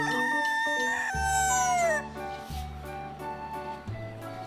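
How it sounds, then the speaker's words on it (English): A red and black rooster crows once, a loud, rising then falling call close by, followed by lower clucking and bird calls from the farmyard. "Rooster, this is rooster."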